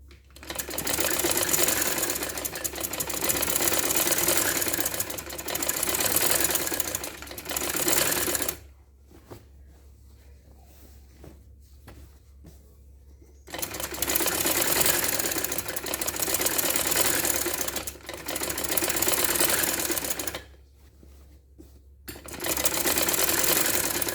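A sewing machine stitches a kameez in long loud runs of rapid needle clatter and motor whir, broken by short quiet pauses.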